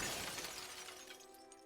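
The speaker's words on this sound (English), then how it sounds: "His face shatters and falls to the ground." A face shattering in the video game Dredge, a sudden bright crash like breaking glass that fades into a ringing, tonal tail, heard alone at moderate loudness.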